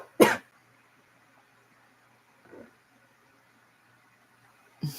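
A few coughs and a throat-clearing sound, one strong burst at the start, a softer one midway and another at the end, separated by near silence.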